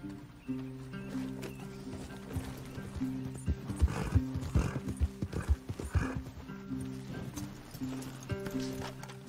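Horses trotting in the Western game Red Dead Redemption 2, with steady clip-clop hoofbeats and an occasional whinny over a low musical drone, growing denser in the middle and fading toward the end.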